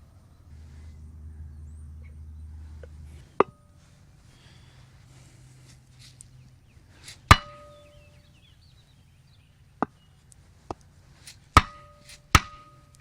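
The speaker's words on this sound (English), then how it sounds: "If you pack this with grease, it'll help hold that spring in so that you don't accidentally knock it out when you're hammering" Several sharp metallic strikes, irregularly spaced, ring out over a low hum, with a couple of quick hits near the end, as a seal is hammered into an RV wheel hub.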